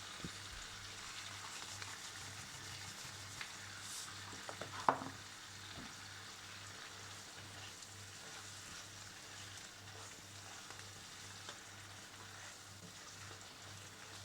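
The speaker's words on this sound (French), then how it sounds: "Et on remue tout ça bien sûr." Seasoned scallops, crab and shrimp are stirred in a pan with a soft, steady sizzle and faint scraping, quiet and close with no talking.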